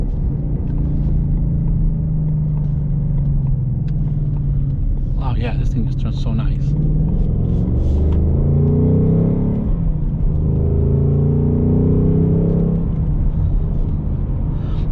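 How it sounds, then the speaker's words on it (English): A 2021 Ford Mustang Mach 1 with a V8 and six-speed manual drones with a steady, loud exhaust rumble while driving, swelling slightly as it pulls, with someone talking excitedly over it. "Oh man, and that exhaust note is just intoxicating."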